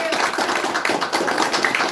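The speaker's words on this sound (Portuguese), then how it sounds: "aplauda o Senhor" A church congregation applauds during a worship service, a dense, steady wash of many hands clapping throughout with a voice mixed in underneath.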